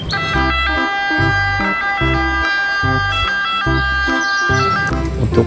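A toy ambulance plays its electronic siren, a loud, repeating pattern of bright beeping tones over a pulsing low beat, heard up close with no talking.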